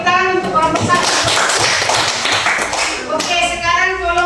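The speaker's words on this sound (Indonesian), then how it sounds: "tepuk tangan untuk kelompok 1" Classroom applause for a group of students during a religious studies lesson, a steady patter of hand claps under ongoing talk, close and moderately loud.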